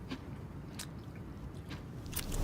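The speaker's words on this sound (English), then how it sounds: "there's some old man chewing" An old man chews and smacks on a cookie in a film scene, close and wet, with a few crisp crunches spaced across a steady low rumble that swells toward the end.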